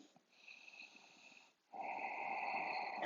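Steady breathing in and out through the nose during a seated forward bend yoga practice, a softer airy inhale followed by a louder, sustained exhale close to the microphone.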